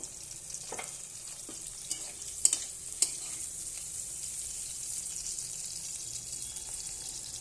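Pointed gourd (potol) frying in a pan as a soft, steady sizzle, with a few sharp clinks of stirring near the middle.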